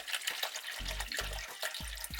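Water glugs and splashes in short bursts, poured from bottles into a trailer's water tank in three or four uneven gushes close by with a hollow, sloshing resonance.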